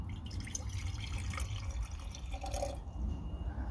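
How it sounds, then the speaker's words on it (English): Water pouring into a container outdoors in the bush, a steady watery trickle with drips, fairly quiet and close, with no talking. "I'm gonna put the water in there"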